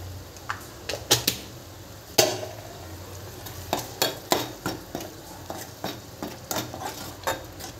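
Masala, with a little salt added, is sautéed in a pan for a chicken curry. A soft frying hiss sits under a run of sharp, irregular metallic clicks and scrapes from a spatula against the pan.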